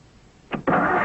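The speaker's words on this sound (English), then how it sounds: "That's what 225 horsepower sounds like" A Ford Thunderbird's 225-horsepower V8 catches briefly, then roars into a loud, steady rev after a short pause.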